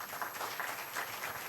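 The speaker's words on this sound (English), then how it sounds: "Please welcome him with a huge round of applause" An audience at a national academic conference gives a round of applause for a guest, a steady, moderately faint wash of many hands clapping in a hall, with no talking.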